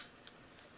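Mamiya C330 Professional F twin-lens camera with 80mm lens firing its leaf shutter at 1/250th second: a single crisp, quiet click, short and isolated against near silence.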